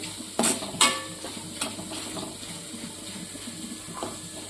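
Soaked sabudana being mixed with fasting salt in a pan, giving soft scraping and stirring strokes with a couple of sharper utensil clinks near the start and a faint sizzle underneath, close and fairly quiet.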